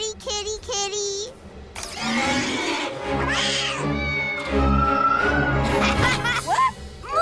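A cartoon cat in PJ Masks meows and yowls several times, loud and close, mixed with bustling cartoon sound effects and brief childlike vocal noises.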